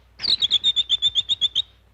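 Cartoon birds from a Disney animated film chirp in a quick series of about ten bright, evenly spaced tweets, loud and close, with no talk.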